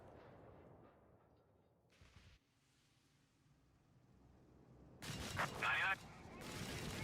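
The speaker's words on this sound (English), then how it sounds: "That time only one bomb landed." Bombs land in the video game Company of Heroes 3 as booming, rumbling impacts that swell near the end over a steady bed of battle noise.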